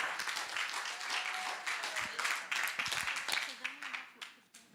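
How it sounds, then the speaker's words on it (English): Steady clapping from a church congregation welcoming a pastor to the front, mid-distance applause that swells and then thins out, with voices speaking over it throughout. "Give him a wonderful hand of applause"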